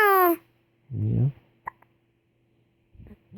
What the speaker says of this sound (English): Tell me how you feel about your hiccups.